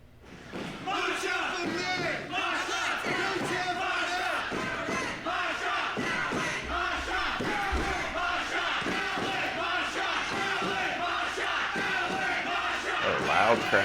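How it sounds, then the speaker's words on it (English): A loud arena crowd at a women's wrestling event cheers and yells continuously, a steady roaring wall of voices with occasional shouts and whoops rising out of it. "Loud crowd here."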